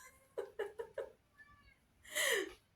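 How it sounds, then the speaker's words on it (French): A domestic cat meows four times in quick succession, a soft fainter mew follows, then one longer, louder drawn-out meow, close by in a quiet indoor room with no talking. "Désolée pour le chat qui miaule."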